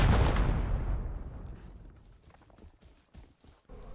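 Rockets fired during a video game base raid land with a loud booming blast that decays into a rumbling tail, followed by a string of quieter distant thuds and crackles.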